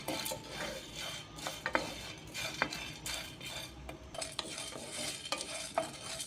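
Chana dal and coriander seeds dry roasting in a pan on medium gas, stirred with a utensil that gives repeated light scrapes and clinks over a faint rustle, fairly quiet and close.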